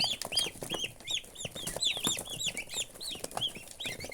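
Young turkey poults eating chopped onion and cottage cheese, a dense chorus of rapid, high chirping peeps close by, continuous and overlapping.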